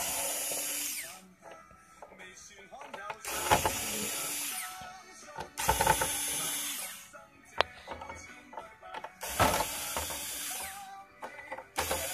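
Screws being driven out of an LED display module with a power screwdriver, several loud whirring bursts of a few seconds each separated by quieter handling clicks and rattles, close to the microphone, with no talking.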